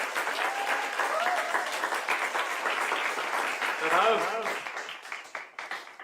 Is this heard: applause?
yes